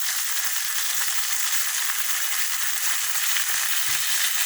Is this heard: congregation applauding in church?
no